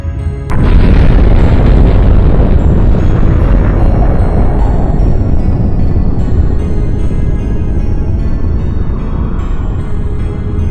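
A meteor impact explosion hits with one sharp blast, then a massive, loud rumbling roar that rolls on and slowly fades over several seconds in a mountainous setting.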